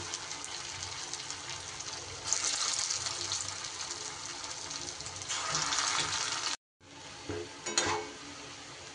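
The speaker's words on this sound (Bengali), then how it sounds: "এইভাবে সব এক এক করে তেলের মধ্যে দিয়ে এগুলোকে আমি ভেজে নেব।" Potato balls deep-fry in hot oil with a loud, dense bubbling sizzle that swells as more pieces drop in, cuts out for a moment, then returns with a few splashy bursts. No one speaks.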